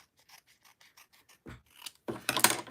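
Scissors trimming an overly wide piece of paper for a December Daily scrapbook page: a series of small, quiet snips followed by louder, closer rustling cuts toward the end, with no talking.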